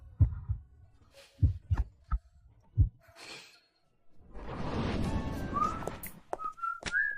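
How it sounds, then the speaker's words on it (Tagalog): Rapid heartbeat effect from a drama, low thumping beats in quick pairs, loud and close, then a sigh-like rush of breath and a few short whistling tones near the end. "Bakit ang bilis ng tibok ng puso ko?"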